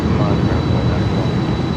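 A LATAM cargo plane takes off from Miami, its engines a steady, loud, broadband roar that holds evenly throughout.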